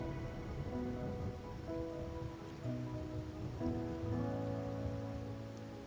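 Steady rain falls in a video game scene from Wuthering Waves, a continuous dense patter heard alone, with a soft musical tone layered over it.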